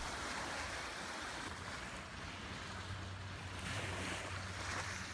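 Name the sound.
lake waves lapping a gravel beach at Varenna, Lake Como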